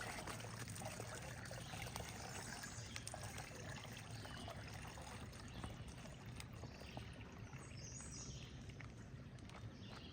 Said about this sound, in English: we'll pour it right into the filter bag